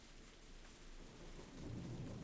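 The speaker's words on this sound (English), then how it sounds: "I could hear thunder roar in the distance. The rain began to pick up." Distant thunder rumbles low beneath steady rain falling on surfaces, a soft, continuous wash of drops that swells slightly toward the end.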